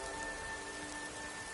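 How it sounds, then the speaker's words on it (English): Steady, soft rainfall patters continuously in Whiterun Hold in Skyrim, a faint even hiss of drops with a low tonal hum beneath it and no voices. "The beautiful rain out here in Whiterun Hold."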